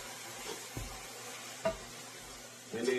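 Food being stirred in a pan with a faint sizzle, a few soft scraping stirs spaced apart, quiet and close with no talking.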